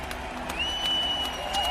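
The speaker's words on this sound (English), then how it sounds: "Give them a round of applause" Crowd applause and cheering greet The Bloodline as storyline of the year at a wrestling awards show, a busy, moderately loud wash of clapping and voices with a thin tonal whine running through it.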